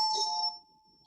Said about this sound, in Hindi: इसके घर पे घंटी बज रही है।